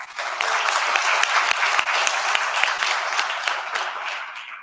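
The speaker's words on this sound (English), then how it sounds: "I think that deserves a big round of applause" Sustained audience applause at a business event opening, a dense steady wash of many clapping hands with scattered louder individual claps, holding strong throughout and easing slightly toward the end.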